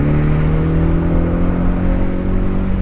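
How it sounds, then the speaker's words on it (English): A 2025 Ford Mustang EcoBoost convertible engine hums loud and close under steady acceleration, with a constant droning tone and no voices over it. "If you can't have fun with this engine, then you're just not a fun person."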